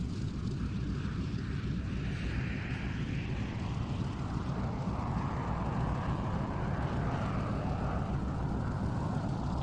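Loud, steady aircraft engine roar of a fighter at takeoff during a Duxford air display, a broad continuous rumble filling the whole stretch without letup.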